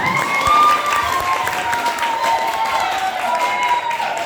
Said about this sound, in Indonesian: Tepuk tangan dulu aja.